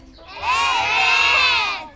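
A group of children shout together loudly during a values-education storytelling session, a sustained burst of many overlapping young voices lasting about a second and a half before trailing off.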